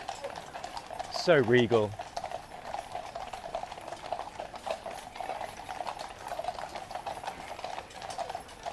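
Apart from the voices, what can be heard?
Household Cavalry horses' hooves clip-clopping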